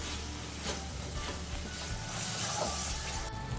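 Grated tomato and spices are cooked down and stirred in a pan for Bengali-style egg curry, giving a soft continuous sizzle with scraping stir noises, fairly quiet and close, no voices.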